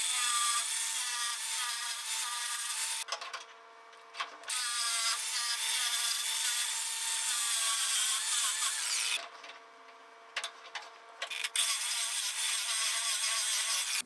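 A power tool grinds a V-bevel into aluminum edges before MIG welding, running in loud sustained bursts broken by two short pauses, close up with no talking.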